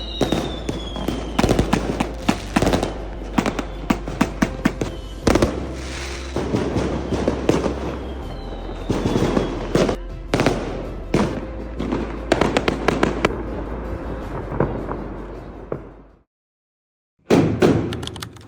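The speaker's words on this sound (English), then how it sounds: "Fireworks filled the sky and the whole village with light and sound." Spring Festival fireworks burst over a rural Chinese village, with dense rapid cracks and booms that keep going for about fifteen seconds, then a short silence and one more loud blast.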